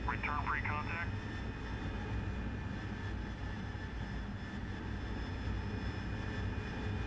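AV-8B Harrier jet engine in DCS World, a continuous rumbling whine holding steady with faint tonal engine lines, with a brief radio-like chirp near the start.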